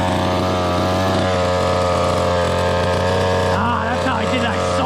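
A 1:5 scale RC car engine idling loudly and steadily close by with a buzzy, constant drone. Toward the end the pitch wavers briefly as the idle is adjusted.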